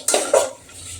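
Spices being stirred in a pan for Marathi masala rice, two quick metallic scrapes of a spoon against the pan with a faint sizzle beneath, close up and with no voices.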